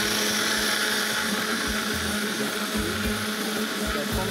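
A kitchen blender whirs loudly and continuously while mixing aioli sauce, a steady close motor drone with slight rhythmic fluctuation throughout.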